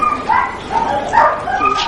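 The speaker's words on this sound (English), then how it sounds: "These dogs are greyhounds, and greyhound racing is very popular in England." Greyhounds at a racing track in England bark and whine in short, loud yips close by, several sharp calls in quick succession.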